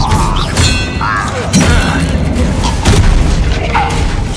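An Expelliarmus disarming spell in the Hogwarts Legacy video game produces a dense run of loud booms, thuds and mechanical clatter that carries through the whole stretch.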